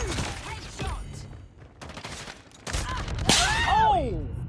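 Gunfire in the video game Call of Duty Mobile: quick bursts of shots mixed with game effects and someone speaking over them, busiest toward the end.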